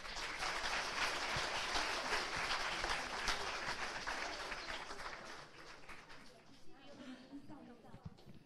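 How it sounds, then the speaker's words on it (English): Audience applause for children at a community event, a dense wash of clapping that is fairly faint and steady, then thins out into scattered claps near the end. "Please applaud for the kids to encourage them."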